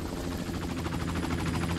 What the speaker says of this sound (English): The helicopter.